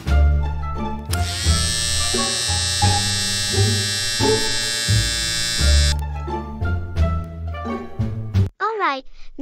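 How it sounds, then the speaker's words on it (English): An electric razor shaving a head gives a steady, loud buzz that lasts about five seconds, set among music and other sounds in a cartoon. "now I am gonna shave her head"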